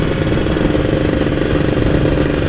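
A Kawasaki Ninja two-stroke motorcycle engine with a PWK 33 carburetor runs loud and close, a steady buzzing, rattling drone with no break and no voices.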